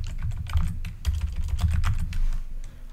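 Fast typing on a computer keyboard during a Go programming session, a close, loud flurry of irregular key clicks and clacks with no voices.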